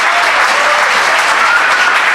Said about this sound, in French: tous ces étudiants méritent une grande main d'applaudissements pour leur succès.